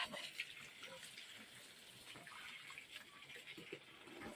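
Water is poured by hand onto cucumber plants in a garden without a sprinkler head, a faint uneven splashing and trickling that continues throughout.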